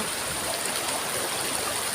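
A river rushes steadily in a continuous, even stream, a broad close flowing sound with no voices.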